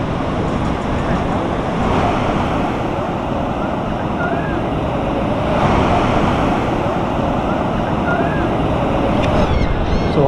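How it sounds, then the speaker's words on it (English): Steady roar of ocean surf on a windy day at Clearwater Beach, Florida, with waves rushing continuously and a swell in loudness near the middle, with no one talking. "The waves are a bit crazy today, a bit crazy."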